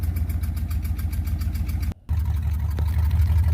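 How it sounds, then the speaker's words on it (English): A Ford F-150 pickup truck engine idles with a steady low rumble, drops out briefly, then comes back and revs up a little louder and rougher near the end. "So that's just us revving up to see if it would rev up a little smoother"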